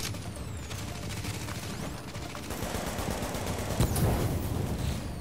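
Rapid turret gunfire in a video game, a dense, continuous stream of shots with a heavier burst near the end, loud and steady without talk.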